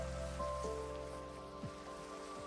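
Steady rain falls in the video game Minecraft, a continuous even patter with faint tonal game sounds layered over it and no voices.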